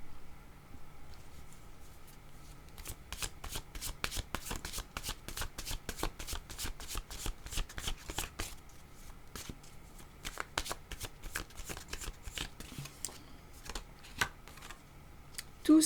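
Oracle cards shuffled by hand before one is drawn, heard up close as a long run of rapid papery riffles and flicks, steady and crisp and lasting for most of the stretch, with no talking over it.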